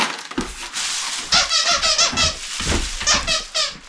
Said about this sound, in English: They have a lot of crinkles in their tentacles, and they both squeak.